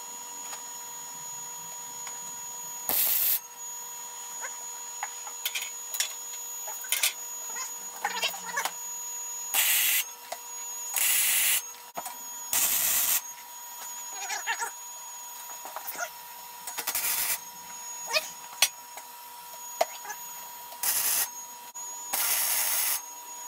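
Steel pieces of a Jeep JK rear bumper being tack welded: about a dozen short, sharp, crackling bursts, each under a second long, spaced irregularly over a quiet workshop hum.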